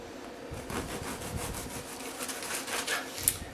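A bread knife saws through a dense loaf of Italian bread, cutting thick slices about an inch wide, giving a steady close rasping scrape with repeated strokes.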